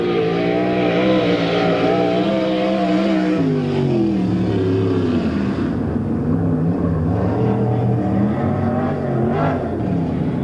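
A non-wing SCRA sprint car runs a qualifying lap at Lincoln Speedway during a 2002 world championship event. Its engine roars loudly and continuously, the pitch climbing and dropping as it accelerates and backs off through the turns.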